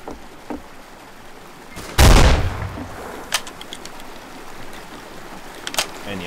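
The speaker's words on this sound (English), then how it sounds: "somebody's got a sniper rifle. A Sharps rifle with a big scope on it" A single loud, booming shot rings out from a scoped Sharps sniper rifle in the Western shooter Fistful of Frags, followed by a few fainter distant cracks over quiet ambient hiss.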